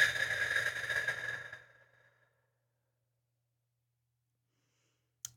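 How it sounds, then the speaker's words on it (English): One slow, deep breath, drawn in and let out as a long airy exhale that fades to silence, followed by a tiny faint click at the very end. "Take that breath deeply in through your nose. And then exhale out your mouth."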